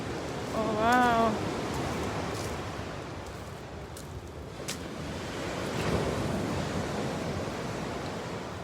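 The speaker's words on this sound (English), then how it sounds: "We're having big waves this morning and it's a high tide." Big ocean waves at high tide by Redondo Beach Pier in California crash and wash in a continuous roar, swelling and easing, with wind noise and a brief distant bird call.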